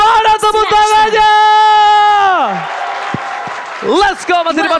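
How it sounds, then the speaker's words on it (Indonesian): An arena crowd at an esports match claps in a short burst of applause, partly buried under a loud, excited commentator's voice. "FPL Arena, mana tepuk tangannya?"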